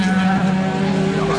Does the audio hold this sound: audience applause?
no